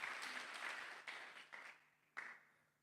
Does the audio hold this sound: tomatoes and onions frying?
no